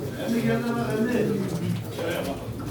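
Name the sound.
pigeons cooing at a pigeon auction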